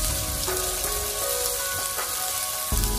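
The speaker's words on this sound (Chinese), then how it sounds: "青红椒加进来以后，我们快速的给它翻炒一下" Green and red peppers stir-fry in a hot wok with garlic, ginger and chili, giving a dense, steady sizzle and crackle with a few clanks from the spatula on the metal.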